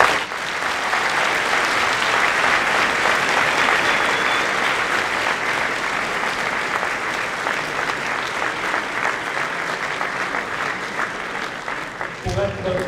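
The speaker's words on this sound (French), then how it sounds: "Je ne pensais pas me faire applaudir après un exposé aussi austère" A lecture audience at a university conference gives sustained, even applause to a speaker after his talk. The clapping stays loud and close throughout, then thins out near the end as a voice starts speaking.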